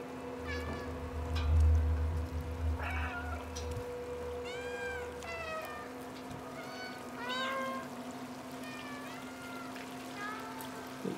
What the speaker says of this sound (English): Looks like the cats are having fun exploring together.